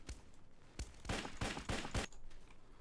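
Rapid bursts of gunfire from the free-to-play shooter game Kuboom, a string of sharp cracks close together with brief pauses between volleys, loud and close with no talking.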